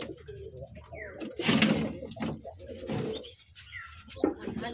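Light biscuit-coloured pigeons coo at a loft in Rajshahi, giving soft throaty calls in several uneven bursts. A few sharper chirps sound between them, and scattered background noise runs beside the birds.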